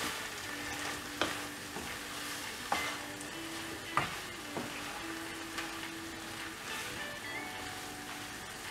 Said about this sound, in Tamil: உப்பு ஆட் பண்ணிவிட்டு இதை நல்லா மிக்ஸ் பண்ணிடலாம்